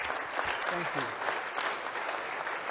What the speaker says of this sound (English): Can we just applaud Artie